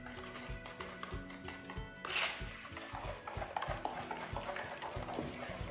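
Bran muffin batter mixed with oil is stirred in a bowl, making faint, rhythmic scraping and swishing strokes repeated at an even pace, with one brighter clatter partway through.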